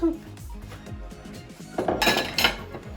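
Bowls and dishes clink and knock in a home kitchen while someone gets a bowl ready, light taps giving way to a louder cluster of ringing ceramic clatter near the end, with a voice talking softly.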